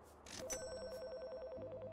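A telephone rings in the video game Priest Simulator, its electronic trilling tone pulsing in an even, repeating pattern through the whole stretch, clear and moderately loud over quiet game ambience.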